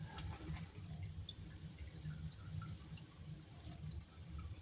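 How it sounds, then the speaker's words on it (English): Fizzing bubbles from a chemical reaction making calcium acetate fertilizer, a faint, steady liquid hiss and crackle of small popping bubbles, close and quiet throughout. "And the fizzle means it's reacting. The bubbles means there's a reaction taking place."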